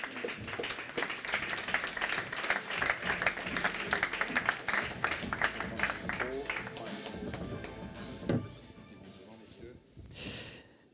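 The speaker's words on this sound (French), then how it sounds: "Sous vos applaudissements." Applause at an aviation industry awards ceremony as two people are called on stage, dense clapping for about eight seconds, then thinning to a few scattered claps with some murmuring and talk near the end.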